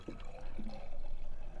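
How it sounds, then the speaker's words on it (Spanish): Water poured into a jar while watering Christ thorn (corona de cristo) plants, a steady low splashing pour running continuously through the short moment with no talk over it. "Vamos a echar más agua."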